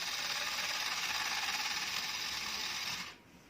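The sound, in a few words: Fujica Z800 Single-8 camera motor spinning after shutter press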